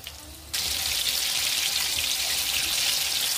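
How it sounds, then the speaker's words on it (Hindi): Momos dropped into hot oil in a kadhai over a low flame, bursting into a loud, steady, close sizzle after a brief quieter start and crackling evenly without pause. "अब इसमें मोमोज डालने जा रहे हैं। धीमी आंच में फ्राई करना है।"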